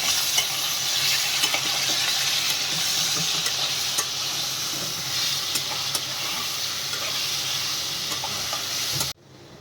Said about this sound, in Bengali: চারটে কাঁচা লঙ্কা কুচি করে রেখেছিলাম সেগুলো দিয়ে দিচ্ছি দিয়ে এটাকে একটু মারবো